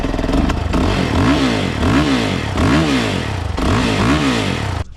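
Motorcycle engine after carburetor work, started with starting fluid and revved repeatedly, loud and close, with rising and falling revs in a steady rhythm for the whole span before cutting off at the end.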